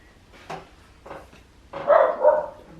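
A pet dog indoors barks at someone outside: a few short, sharp woofs, then a louder double bark, close by and with nothing else over it.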